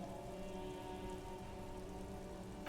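Steady rain patters on surfaces in the video game Disco Elysium, a constant, even wash of dense droplets at a low level with no voices.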